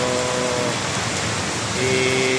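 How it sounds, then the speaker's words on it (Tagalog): Steady, heavy rain pours down in a dense, hissing wash amid flooding, continuous, with a faint tonal hum in the background. "Tuloy-tuloy pa rin ang ulan, tuloy-tuloy pa rin yung baha."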